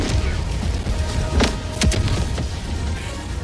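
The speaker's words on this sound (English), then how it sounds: "Free orbital strike" Orbital strike explosions in Helldivers 2 boom out as a few loud, sharp blasts over a constant dense rumble of battle noise.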